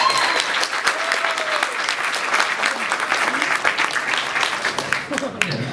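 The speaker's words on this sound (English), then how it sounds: "Come on, let's get a clap for Yokitron." A convention panel audience claps steadily throughout for a Yokitron figure from a third-party Transformers toy maker, with a voice speaking over the applause.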